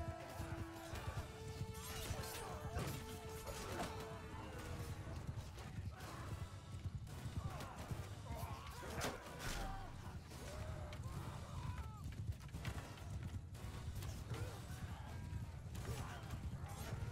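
Many horses gallop in a battle in Mount & Blade II: Bannerlord, a dense busy rumble of hoofbeats with crashes and clashing mechanisms, while a voice talks intermittently over it.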